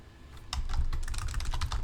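A quick burst of typing on a computer keyboard, close and fairly quiet: a rapid run of key clicks after a brief pause.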